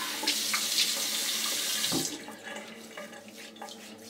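A tap runs strongly into a sink for rinsing after a wet shave, a steady rushing splash that is shut off about halfway, leaving faint drips and small movements.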